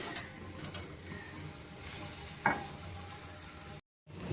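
Chow mein being stirred in a frying pan for egg chicken chow mein, a steady soft sizzle with scraping under it, one sharp clatter midway, then a brief dropout before the sizzle returns.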